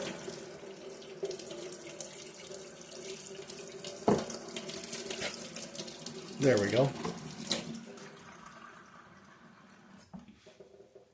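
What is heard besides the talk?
hot water running from a kitchen tap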